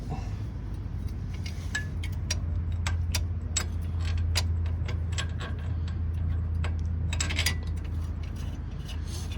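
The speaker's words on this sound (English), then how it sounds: "Let's go ahead and get our bolts back in the back." Someone threads wheel hub bolts back in by hand on a 2002 GMC Yukon. The metal clicks and light jangles are steady and close, over a constant low hum.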